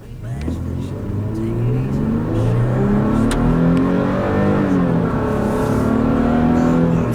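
A 2016 Toyota Tacoma pickup with a 278-horsepower engine pulls away from a standstill, its engine revving up loudly through rising gears with a brief dip at a shift, heard from inside the cab.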